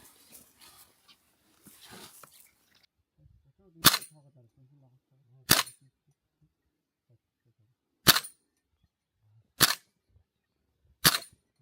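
Brief murmured voices and rustling give way to five sharp, loud gunshots at a shooting target about 15 metres away, spaced a couple of seconds apart, each a crisp crack with quiet between.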